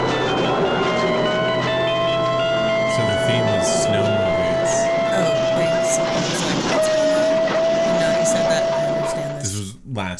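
A train from the Horror Express movie trailer rumbles loudly and continuously, with a long sustained whistle tone held over the rolling clatter before it briefly breaks and resumes, all layered into a dense trailer mix.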